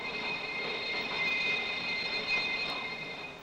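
Mechanical noise machine for old cinema sound effects imitating a carriage, giving a steady faint rumbling and whirring with high ringing tones, a continuous rolling texture at moderate distance, with no talking.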